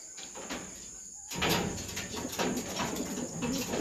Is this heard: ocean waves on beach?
no